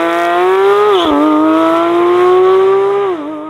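A 2023 Porsche 911 GT3 RS flat-six screams close and loud at high revs on a tarmac test strip, its pitch dipping briefly as it launches, then climbing steadily before falling back at the end.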